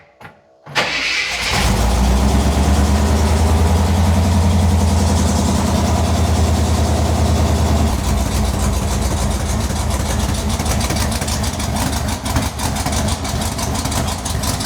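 A 1972 Jeep Commando engine cranks and catches, then settles into a loud, steady, slightly lumpy idle while running too rich, with no talk over it.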